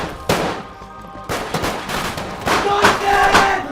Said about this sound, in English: the one-take shootout at the Byers home.